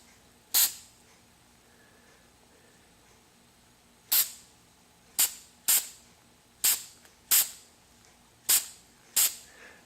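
Short bursts of clear paint from a spray gun applying a stipple finish: eight sharp hissing puffs, one early and then seven in quick irregular succession, close and distinct against a quiet background.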